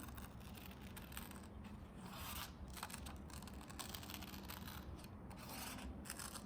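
Scissors snip through red paper in a children's paper-cutting craft, a quiet, steady rasping and rubbing of blades along a line with no talking.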